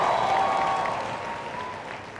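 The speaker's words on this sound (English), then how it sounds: "Give that a round of applause." An audience at a sales event gives a brief round of applause, a steady wash of clapping heard from a distance that slowly fades.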